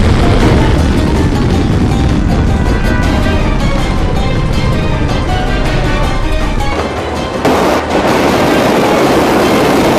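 A loud, sustained roaring blast with heavy low rumble from a Minuteman III missile launch over the sea, dipping briefly before the roar resumes. No voices.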